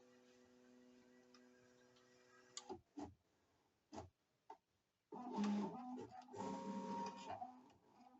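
A LOKLiK cutting machine cuts red glitter vinyl, giving a steady mechanical whir and hum with a few sharp clicks and bursts of louder motor movement partway through, close and with no speech.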